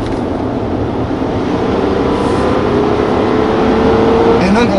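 A Toyota Tacoma pickup with a stock muffler and a 10-inch lift drives along with a loud, steady engine drone and road roar from inside the cab.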